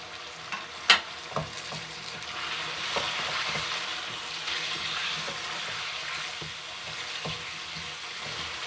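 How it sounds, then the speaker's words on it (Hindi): Chicken with coriander powder, turmeric and cumin powder sizzles and fries in a pan, a steady close crackle broken by sharp clinks and scrapes of stirring. "मसालों की बुनाई करेंगे हम"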